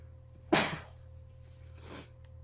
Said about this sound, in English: Had to sneeze, my bad.